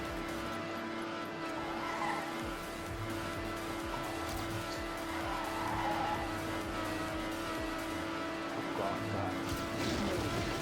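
Car engine and squealing tires in the racing game Trackmania United Forever: a steady, fairly quiet engine hum with a continuous tone, overlaid by recurring tire squeals and skids through corners.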